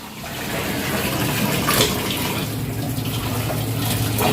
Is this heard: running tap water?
yes